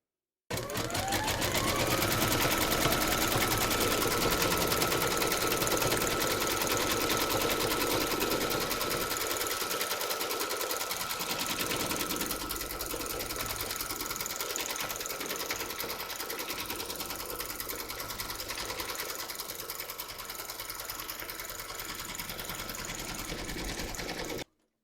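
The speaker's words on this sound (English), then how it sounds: "We're now going to stitch round number 9, and that's going to do the outline of the body." An embroidery machine stitches the body outline of an appliqué teddy toy in a hoop, a continuous close rapid mechanical chatter of needle strokes running steadily for the whole stretch.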